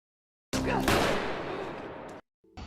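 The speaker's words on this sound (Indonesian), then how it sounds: "Merasa terpojok, Cho melepaskan tembakan." A film gunshot fires as a single loud, sudden blast that sustains a rough, roaring decay for over a second and then cuts off, followed by a brief low hum.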